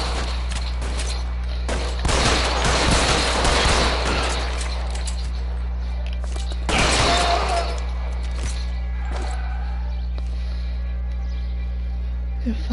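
Gunfire erupts in L.A. Noire: a dense, rattling burst of rapid shots, a pause, then a second shorter volley, followed by fainter scattered noise over a steady low game hum.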